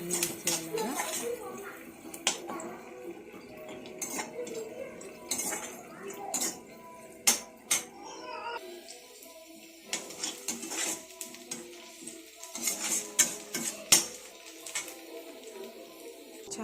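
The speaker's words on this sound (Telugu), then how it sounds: "ఇలా ఆనియన్స్ అనేది బాగా ఫ్రై అయ్యేలాగా కలుపుకోవాలండి, అన్నీ మిక్స్ అయ్యేలాగా" Onions stirred as they fry in a pan for an egg and tomato curry, with irregular clinks and scrapes of a utensil against the metal, moderately close, alongside some kitchen clatter.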